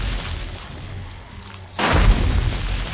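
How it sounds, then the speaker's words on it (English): Players shooting guns in 7 Days To Die, a quieter rumbling stretch broken by a sudden loud blast of fire that keeps roaring on at high level to the end. "We're shooting at the same time."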